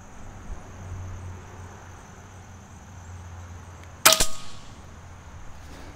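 A single sharp air rifle shot firing an H&N Hornet pellet cracks out loudly after several seconds of quiet, followed by a brief ringing tail and what may be the pellet striking its target.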